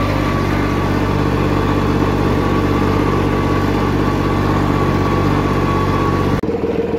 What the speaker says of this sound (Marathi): तर ट्रॅक्टर टू वार्डमध्ये असला ना तर आता बघा कसं होतं ट्रॅक्टर